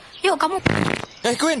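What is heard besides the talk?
fart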